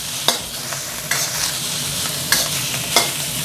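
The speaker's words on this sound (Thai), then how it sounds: "จะเริ่มจากการนำหมูสับนะครับ ลงไปรวนกับน้ำมันให้สุกสักครู่ก่อนนะครับ" Minced pork stir-fries in oil in a wok over high heat for Thai basil pork, with a constant loud sizzle and sharp spatula scrapes and knocks every second or so.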